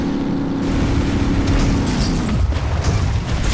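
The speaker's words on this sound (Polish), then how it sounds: "O, wybuchy." Deep, rumbling explosions from the game Advent Rising roll on continuously, loud and dense, with a heavy low-end boom that fades slightly toward the end.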